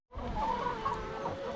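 Layer hens clucking on a farm, a dense, steady flock chatter of overlapping clucks and murmurs close by, continuous throughout with no talk.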